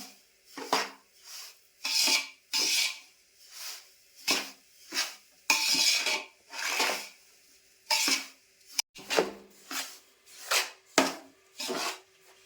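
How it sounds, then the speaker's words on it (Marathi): Dry semolina (rava) roasting in a pan for a Satyanarayan puja offering, stirred in a steady rhythm of about fifteen loud scraping, rustling strokes with short pauses between them, close by and without speech. "रवा मस्त असा ना एकदम खपूस लाल तांबूस असा भाजून घेणार आहे."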